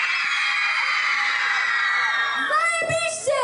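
A crowd of young women at a student Juwenalia festival in Nysa screams loudly and continuously in a sustained high-pitched roar that fades toward the end into scattered shouts and whoops.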